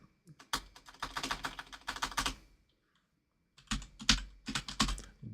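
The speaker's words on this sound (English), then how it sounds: "let's try doing that again so I actually type it correctly" Quick bursts of typing on a computer keyboard sound up close, a flurry of clicky keystrokes for about two seconds, a pause, then another short rapid burst, with no talking.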